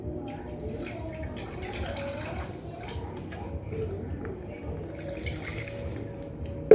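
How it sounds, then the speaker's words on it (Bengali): Rice being washed with tap water, a soft continuous trickle and slosh of water in a pot, fairly quiet and steady with faint background voices. "জল দিয়ে ভালো করে চালটা ধুয়ে নিই"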